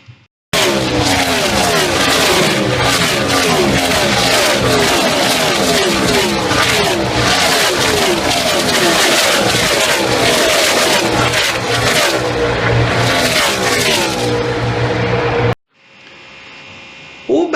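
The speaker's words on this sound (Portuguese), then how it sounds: "O barulho dos carros de corrida passando ali pelos espectadores também é um clássico exemplo de efeito Doppler." Race cars passing spectators, a loud continuous roar of engines with pitch sweeping downward as cars go by, overlapping passes for about fifteen seconds before cutting off.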